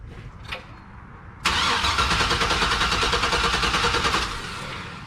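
A 1972 Chevrolet Monte Carlo with an LSA engine cranks briefly, then fires up loudly and settles into a steady, rough idle close by for several seconds before easing slightly.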